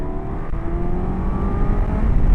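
Suzuki GSX-S1000GX motorcycle, 2024, accelerating in third gear on the road, a steady engine drone rising gradually in pitch and loudness with strong wind rush around it.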